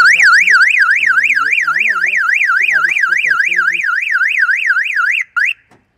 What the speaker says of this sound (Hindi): ये इसने सायरन को भी कर दिया ऑफ